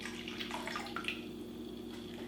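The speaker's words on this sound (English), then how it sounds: "to that mixture, to that starter, we need to add our water." Water poured into a flatbread dough starter for Armenian matnakash, a short soft splash and trickle that stays close and fairly quiet over a steady background hum.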